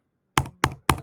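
Three separate, crisp keystrokes tapped on a computer keyboard while entering a zip code, evenly spaced and close up, with silence before the first press.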